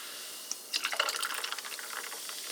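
Cherry-flavored carbonated water is poured into a mug of ice after a small clink, a quick bubbly splashing that fizzes and tapers off, close and fairly quiet.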